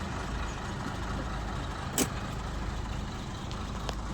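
A car sits with its freshly repaired engine running, giving a steady low rumble with a brief sharp click near the middle and faint ticks later. Nobody speaks.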